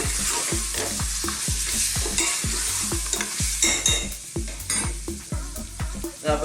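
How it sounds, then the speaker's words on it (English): A spoon scrapes and stirs spiced lamb in a hot pot in a steady run of rhythmic strokes over a continuous sizzle, heard close and loud with no voices. "Again, let's give this another stir."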